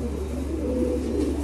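Young racing pigeons cooing softly in a loft, low murmuring coos blending into a steady close background hum with no voices.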